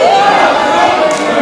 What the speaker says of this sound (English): Crowd not happy about that at all.